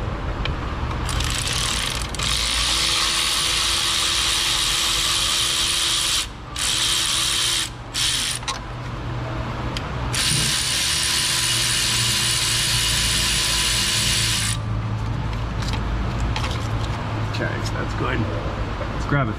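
A ratchet wrench clicks steadily as it backs out the perimeter pan bolts on a 4L60E transmission. The clicking runs in long stretches with brief pauses, under a constant mechanical hum, and a person talks over it.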